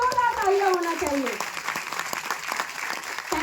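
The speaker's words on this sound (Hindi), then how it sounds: "वो हमारे मेंटर मिस्टर प्रवीण शाह के साथ पर जोरदार तालियां होना चाहिए।" An audience claps loudly for a mentor at a business leadership event, with a voice or music tones at the start and the clapping continuing steadily throughout.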